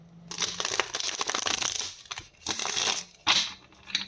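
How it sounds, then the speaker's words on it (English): Tarot cards are shuffled up close in rapid riffling bursts, a long flurry followed by two shorter ones, crisp and papery with brief pauses between. "I'm just doing a quick little extra shuffle here. Make sure these cards are mixed up good and well."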